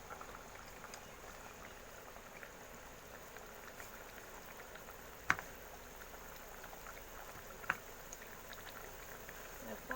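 Hilsa gravy with mustard paste simmers quietly in a pan, a faint steady bubbling hiss with a couple of sharp isolated pops.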